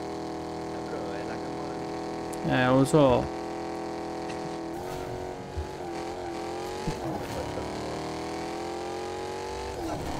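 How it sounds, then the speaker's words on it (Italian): A car engine in Fortnite drones steadily with a rumbling, layered tone that slides upward in pitch near the end. Someone talks briefly over it. "quanto rumore che fa sta macchina di merda"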